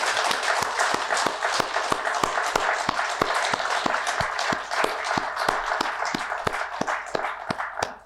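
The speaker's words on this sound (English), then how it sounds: "Let us welcome with a big round of applause Mr. Kinji Saito." Sustained audience applause at a management association session fills the whole stretch, dense clapping with a steady loud wash and no voices over it.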